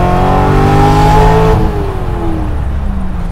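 A widebody LSX-powered C2 Corvette revs under way from inside the car, a loud steady engine drone with rising and falling harmonic tones as it pulls through the gears.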